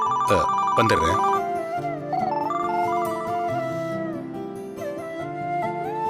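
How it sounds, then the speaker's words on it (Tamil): A phone ringtone sounds for an incoming call in a household drama scene, playing a repeating electronic melody that stays steady and fairly loud throughout, with no voices over it. "ஒரு ஃபோன் வருது"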